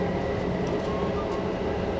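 A train rumbles steadily along its rails in Leuven, heard from inside a carriage as a loud, continuous low roar with a faint hum running through it.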